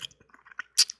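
Someone chewing food noisily, with close, wet mouth clicks and smacks in short irregular bursts, ending in one louder crunchy squelch.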